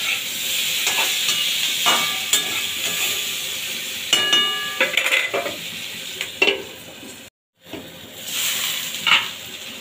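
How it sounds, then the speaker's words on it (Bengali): Malabar spinach with turmeric sautés in a covered pan, giving a continuous close sizzle. Stirring clinks and scrapes punctuate it, with a brief near-silent break near the end before the frying resumes. "আরও একটু ভালোভাবে আমি এটাকে সাঁতলে নেবো ঢাকা চাপা দিয়ে দিয়ে"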